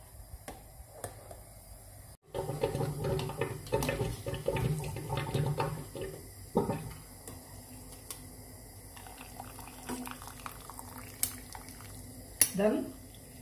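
Spätzle noodles being lifted out of hot water in a home kitchen: splashing, sloshing and dripping water with clinks of utensils, fairly faint and uneven, with occasional speech in between.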